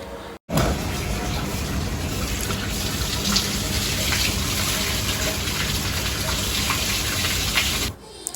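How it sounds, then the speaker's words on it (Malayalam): Soaking water tipped out of a tilted bucket of straw being prepared for mushroom cultivation, a loud, continuous gush that starts abruptly, pours steadily for about seven seconds, then cuts off. "ബക്കറ്റ് ചെരിച്ച് ബക്കറ്റിലെ വെള്ളം ഒഴുക്കി കളയുക"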